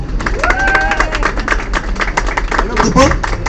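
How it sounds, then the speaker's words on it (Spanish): A tram tour crowd claps and cheers steadily throughout, with voices calling out over the continuous applause, in La Candelaria. "un aplauso por favor."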